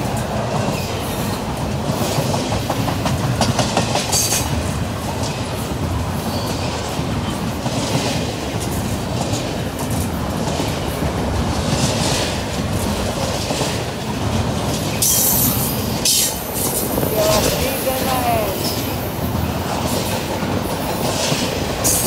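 A Norfolk Southern freight train, NS 204, rumbles past on the rails, a loud steady roar with rhythmic clatter and occasional wheel squeal, continuous with no voices.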